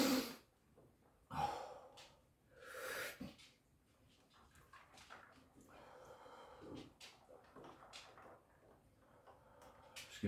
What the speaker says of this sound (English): give me a second to get my breathing under control.